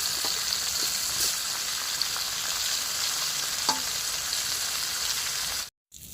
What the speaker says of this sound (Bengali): বেশি করে তেল দিয়ে দিচ্ছি, সব এঁচড়গুলোই একসঙ্গে কষে নেব